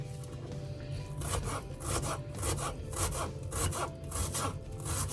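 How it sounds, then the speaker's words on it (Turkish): Onions are chopped finely with a knife on a cutting board: a steady run of quick, close cuts, moderately loud, with no talking. "Şu anda soğanlarımı ince ince doğruyorum."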